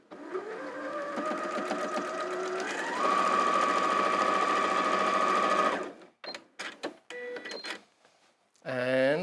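A sewing machine runs steadily, stitching quilt block pieces together, its motor hum rising in pitch partway through before it stops; a few short clicks and handling noises follow, then a brief voice at the end.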